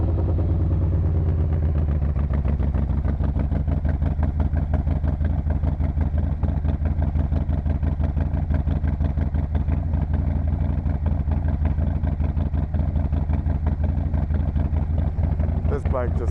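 A modern Harley-Davidson motorcycle is cold started and settles into a loud, close, lumpy idle that thumps evenly throughout, with a brief higher rising sound near the end.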